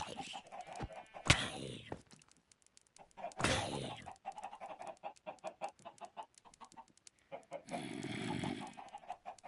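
Chickens cluck in Minecraft, with a zombie among them: several short, rough clucking bursts in an uneven rhythm, fairly close and moderately loud, over a busy game background.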